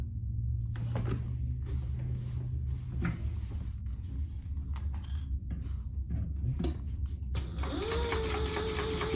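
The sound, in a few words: sewing machine basting a bag flap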